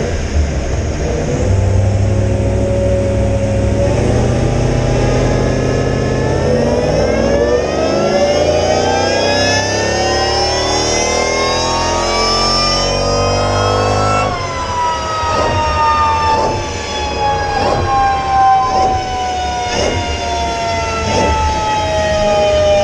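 A Jaguar XKR X100 racing car engine revs on a dyno, climbing steadily in pitch through a long loud pull, then dropping back and pulsing through repeated throttle blips, loud and close with no talk.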